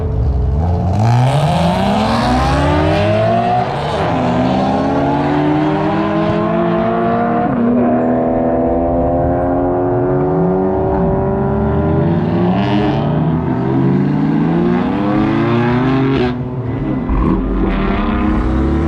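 Turbocharged BMW race car at Willow Springs track, its engine loud and close as it revs and climbs through gears in repeated rising sweeps, dropping back between pulls over a steady roar.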